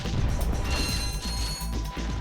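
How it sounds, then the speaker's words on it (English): Ratchet smashing wooden crates in Ratchet & Clank: a rapid run of crunchy breaking hits and clattering debris over a game backdrop with a faint high tone, dense and moderately loud. "Smash more crates."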